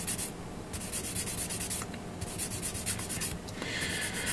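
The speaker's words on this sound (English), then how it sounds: "I've noticed that this part needs to be sanded down." A part from a 1/144 HG GM Striker Custom Gundam plastic model kit is sanded down by hand, producing steady, close, raspy rubbing strokes that continue without pause and grow brighter near the end.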